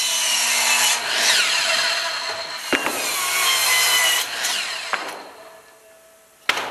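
A saw blade rips through wooden boards for a raised garden bed, several loud rasping strokes with brief pauses between cuts and a sharp knock near the end, no talking.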